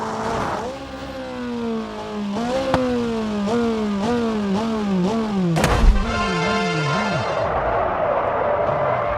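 McLaren car engine revving hard through a string of rapid gear shifts, each pitch climbing then dropping, with a sharp bang partway through and a throaty high rev trailing off at the end.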